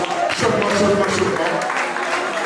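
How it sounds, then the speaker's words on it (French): Applause from wedding guests at a reception, a moderate wash of clapping under talk and background voices for a couple of seconds. "On applaudit quand même Lindy, s'il vous plaît"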